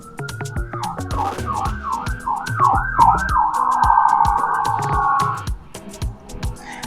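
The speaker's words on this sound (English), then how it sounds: "you hear the ambulance" A wailing ambulance siren on a Boston street sweeps up and down repeatedly, then holds a steady tone, loud and close amid a busy rhythmic background of clattering beats.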